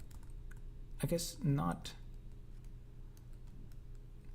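Computer keyboard keys click repeatedly and fairly faintly during play of a block mining simulation game, with a brief spoken phrase partway through.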